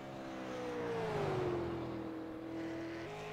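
Super late model race car on track during qualifying at Five Flags Speedway, a sustained engine drone whose pitch falls and levels off, moderately distant with no talk.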